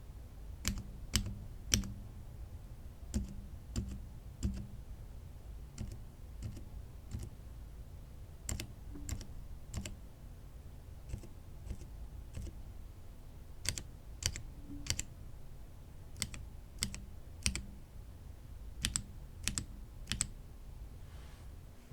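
Mechanical keyboard switches, both normal and semi-silent types, clacking as keys are typed in irregular bursts; quiet, close clicks from both the downstroke and upstroke over a soft low hum.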